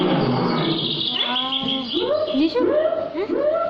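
Birds chirp and tweet loudly and close as a sound effect, their warbling calls layered with a bird cooing. A voice narrates over them throughout.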